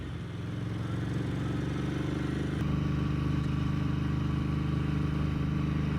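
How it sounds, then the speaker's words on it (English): A Ducati 900 Darmah SSD L-twin motorcycle engine runs steadily nearby with a deep, throbbing rumble and a constant level throughout, no voices over it. "that L-Twin soundtrack is just wonderful"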